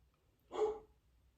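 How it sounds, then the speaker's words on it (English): A single short dog bark, fairly faint and somewhat distant, surrounded by near silence. "My dog is barking."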